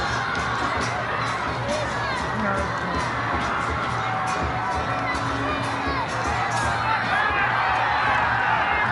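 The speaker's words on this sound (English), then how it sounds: "The Bhutanese crowd as well, Sonam, maintaining their hospitable, Bhutan" A Bhutanese football crowd cheers and shouts at a World Cup qualifier against Sri Lanka, a loud, dense roar of voices with whoops and children's shouts, sustained without pause.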